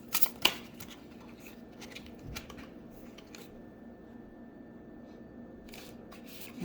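Tarot cards are shuffled quietly by hand, giving soft riffling and sharp flicking bursts near the start and again toward the end, with a low, faint background between them.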